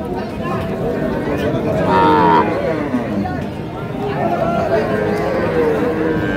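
Cows and a calf mooing at a busy village cattle market with Sahiwal, Sindhi and local dairy breeds, loud drawn-out moos rising over a steady background of crowd chatter and voices nearby.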